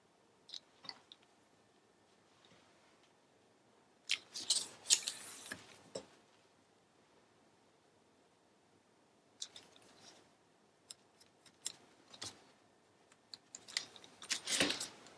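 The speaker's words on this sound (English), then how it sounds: "we are going to trim this to fit." Scissors trimming a paper liner to fit, a few short bursts of close, quiet snipping and paper rustling separated by silent pauses.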